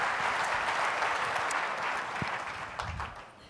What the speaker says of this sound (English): Please give a big round of applause.